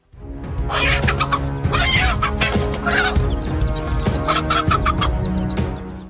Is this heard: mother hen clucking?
yes